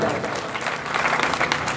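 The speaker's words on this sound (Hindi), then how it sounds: "अगर आपको गुफ्तगू पसंद आई है तो भरपूर अंदाज में तालियां बजाएं।" Crowd applause at an outdoor election gathering in Khari, dense and steady from start to finish at moderate volume, with a few voices mixed in.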